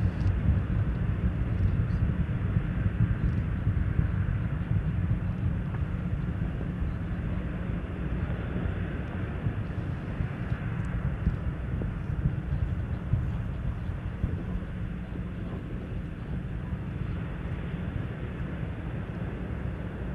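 Space Shuttle Endeavour on mission STS-99 climbing after launch from Kennedy Space Center, its rocket roar reduced to a steady, distant low rumble that stays broad and unbroken throughout, with no talk.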